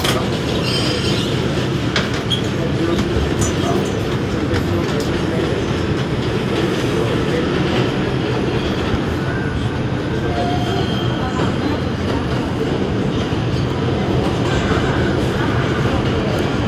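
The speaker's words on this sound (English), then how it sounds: "This is a northbound 5 Express train." A northbound 5 Express subway train in New York rumbles steadily throughout, with rattling wheels and clatter from the cars filling the whole stretch at a loud, constant level.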